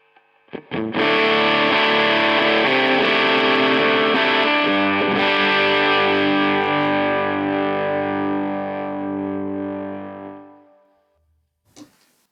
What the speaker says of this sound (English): So yeah, it's starting to get fuzzy, but if we kick it onto our bridge pickup